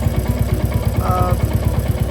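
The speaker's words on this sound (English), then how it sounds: "the sound of the engine is not as that prominent as without the FuelX" A Royal Enfield Classic Reborn motorcycle with a FuelX Pro+ fitted runs with a steady, even thump from its single-cylinder engine, close and fairly loud through the whole short stretch.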